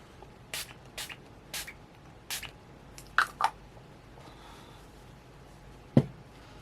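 Several short hissing bursts of setting spray close by, spaced a second or so apart, followed by a few soft taps and a brief clunk in a quiet room.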